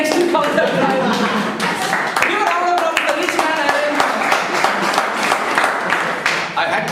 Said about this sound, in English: Give a round of applause to Vedinathan